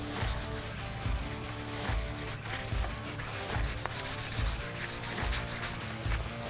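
Steady, rhythmic rasping strokes of 220 grit sandpaper worked by hand over a forged hunting knife blade, close and even in pace, with no talk.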